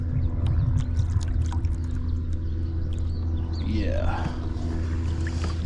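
A motorboat speeds down a lake past a kayak during a fishing tournament, its engine a steady drone under close paddle splashes and water trickle, with a brief spoken word.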